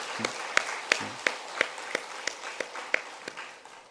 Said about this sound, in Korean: 박수하십니다.